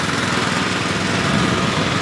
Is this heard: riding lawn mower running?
yes